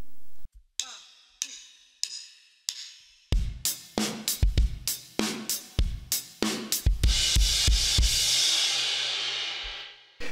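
Drum kit playing the two-bar intro pattern of a song: sparse sharp hits at first, then a driving run of loud, close snare, bass drum and hi-hat strikes building into a sustained cymbal-heavy wash.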